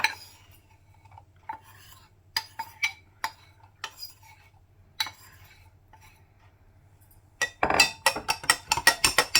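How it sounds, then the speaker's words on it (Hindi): Spoon stirring cornflour into water in a bowl or cup while making Chicken Manchurian, heard as scattered light clinks and scrapes that build into a rapid, louder run of metallic taps near the end. "अब हम कॉर्नफ्लावर को पानी में मिक्स कर लेते हैं।"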